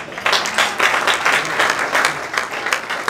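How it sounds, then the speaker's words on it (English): Audience at a gala applauds loudly and steadily, a dense burst of many hands clapping close by that fills the room for a few seconds. "Give him a round of applause."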